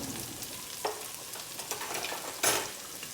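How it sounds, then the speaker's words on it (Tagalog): Curry powder and chili paste sautéing for laksa: a steady soft sizzle in the pan with occasional scraping stirs and a louder stir burst near the end, no talking. "At saka natin yan gisa-gisain guys."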